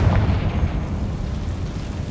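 A Confringo fire spell blast in the Hogwarts Legacy video game, a loud booming burst at the start that rolls into a sustained low rumble with no speech.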